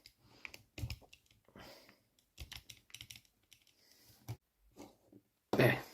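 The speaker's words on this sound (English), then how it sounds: "So I've got to cut them from the sprue. So I'll just go and cut them now." Tiny plastic model-railway window parts snipped from a plastic sprue with a cutter, giving sharp close clicks and snaps in irregular bursts separated by quiet pauses, with one louder rustle at the end.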